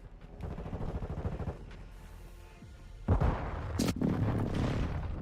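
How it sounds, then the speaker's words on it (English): Call of Duty MW2 hostile airstrike explosions and gunfire rumble in a dense, continuous mix, swelling louder around the midpoint with a sharp burst, with no talk over it. "Hostile airstrike near your location."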